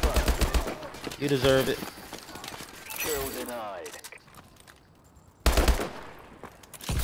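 Gunfire from a small gun in Advanced Warfare, with sharp bursts of shots at the start and again near the end, under someone talking over the game sounds.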